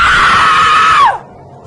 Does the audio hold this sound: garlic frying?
no